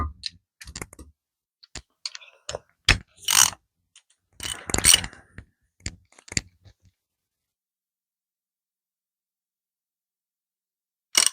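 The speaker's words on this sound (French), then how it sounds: "On a un cliquet." Ratchet clicking in scattered short bursts while working on an Austin Mini engine, crisp close mechanical clicks separated by silent gaps, with a long pause before one last click.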